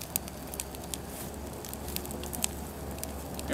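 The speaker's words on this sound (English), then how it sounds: "Snap, crackle, and pop." A burning Honda lawn mower gives off soft, steady fire crackle and scattered pops against a constant low rumble, with no talking.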